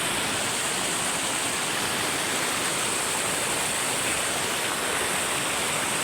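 River current rushing over rocks at a clear river in Masinloc, Zambales, making a dense, steady roar of water that stays loud and unbroken with no voices over it.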